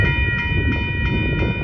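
A northbound Union Pacific mixed freight train with a mid-train DPU passes at Dittmar Road in Austin, Texas, a loud, steady close rumble with a sustained tonal hum running throughout and no talking.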